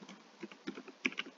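Markdown text is typed on a computer keyboard, a quick irregular run of close, crisp key clicks with brief pauses between bursts.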